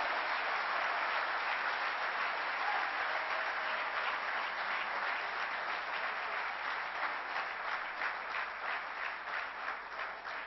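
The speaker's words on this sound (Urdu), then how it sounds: "اپنے لئے بھرپور تالیاں بجا دیں۔" A hall audience claps vigorously at a performance award ceremony, thick continuous applause holding at an even level throughout, with no voices standing out.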